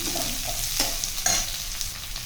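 Beans and carrot frying in oil and ghee for ragi upma, with a steady close sizzle and a few sharper scraping stirs of the pan; no voices.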